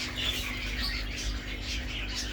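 Lovebird parrots squawking and chirping indoors, a steady busy chatter of several birds over a low hum, moderately close and without talk.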